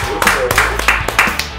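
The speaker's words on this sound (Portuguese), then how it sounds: "Como sempre, vai levantar aí as palmas da galera." Quick burst of applause from a studio audience on a Brazilian talk show, a handful of sharp, uneven claps over under two seconds, with a voice murmuring underneath.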